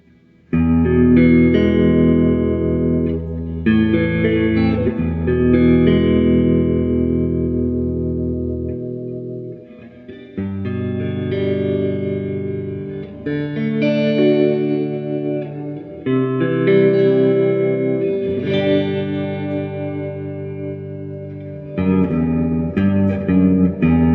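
An electric guitar, a 2001 Gibson Les Paul Deluxe through a Fender Twin Reverb amp, plays clean-toned chords and single notes for a long stretch, ringing with some reverb.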